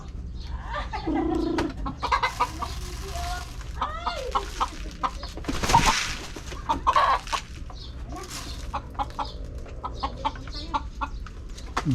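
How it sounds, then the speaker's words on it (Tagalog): A white bantam chicken clucks repeatedly while being fed at home, with short, irregular calls close by and a few louder squawks partway through, over light background noise. "Bigyan ko nga yung isang manok na puti, yung bantres."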